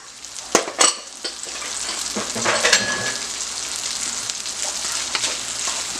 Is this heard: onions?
yes